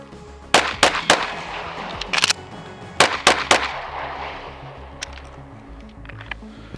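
Gunshots from a Canik SFx Rival pistol on a timed shooting run: two sharp, close cracks, a quick double, a pause, then a fast string of three, followed by a few fainter distant reports.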